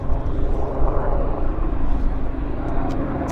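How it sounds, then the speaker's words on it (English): A Helijet Sikorsky S-76 helicopter flies near Vancouver airport, its engine and rotors making a continuous, moderately loud rumbling drone that swells slightly and then settles. "That's a helicopter."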